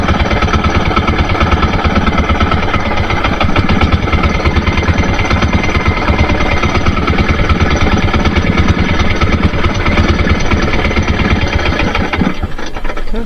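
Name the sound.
boat engine running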